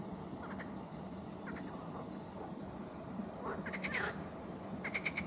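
Frogs calling at a pond, the Étang d'Abbécourt in the Yvelines, in short repeated bursts of croaks, moderately distant, over a steady outdoor background.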